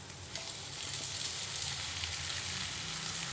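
Boiled sago hits hot oil with frying potatoes for sabudana khichdi and sizzles steadily, a loud close hiss with faint crackles and no voices.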